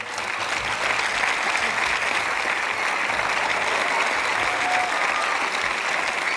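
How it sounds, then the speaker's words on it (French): A theatre audience gives loud, dense, sustained applause for the staff of a comedy show at the Palais des Glaces, a continuous wash of many hands clapping with no pause throughout. "J'aurais qu'on les applaudisse tous ensemble très fort."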